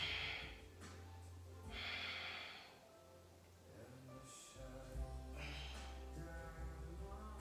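Soft, slow breathing during a yoga pose, a few airy inhales and exhales spaced several seconds apart, faint and close over a low steady hum.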